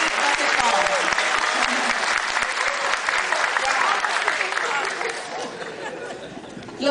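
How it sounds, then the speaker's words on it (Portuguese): A crowd claps loudly and continuously, with some chatter and light laughter mixed in, before the applause thins and fades toward the end. "aplaudimos."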